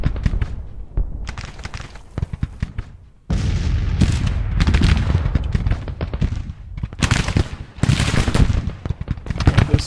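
Skirmishers' rifle fire in Grand Tactician: Civil War: dense, crackling volleys of musketry with scattered sharp reports and booming bursts, rising to sustained loud fire after a brief lull, no speech.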